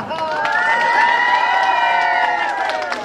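A crowd at a school golden jubilee celebration cheers loudly and continuously for a singer, with many overlapping shouting voices held at a steady level for a few seconds before easing off.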